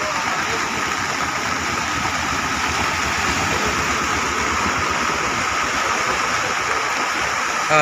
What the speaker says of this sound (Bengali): জলের কারেন্ট দেখতে পাচ্ছ বন্ধুরা, জলের কারেন্ট অনুভব করতে পারছো যে জলের স্রোতটা কেমন